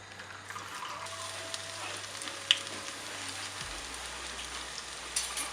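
Aval (rice flake) and potato fingers dropped into hot oil to deep fry, giving a soft, even hiss of bubbling oil over a low hum, fairly faint and with no voices.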